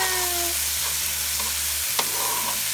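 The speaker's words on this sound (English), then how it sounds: "Let's stir." Apples and garlic stirred in a sizzling frying pan for a frittata, steady frying hiss with a low hum and a single clink of the utensil partway through, close and alone without speech.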